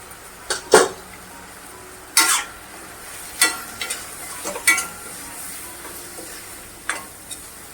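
Turmeric and goda masala sautéing in a pan for Maharashtrian masoor dal, heard as a faint sizzle broken by several sharp clinks and scrapes of a spoon against the pan, with no talk.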